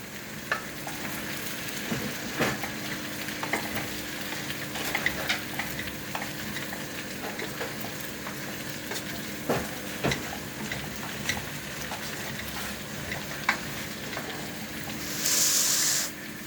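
Garlic potatoes with parsley are stirred in a frying pan, a continuous sizzle broken by repeated scraping and clinking of the utensil.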